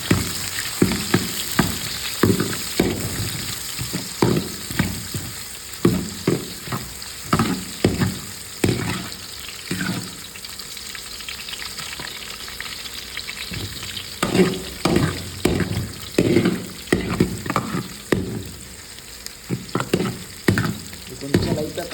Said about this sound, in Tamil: ஆயில் நல்லா சூடாகிடுச்சு. சூடானதுக்கப்புறம் என்ன பண்ணுறோம்னா, நம்ம குடமிளகா போடுறோம்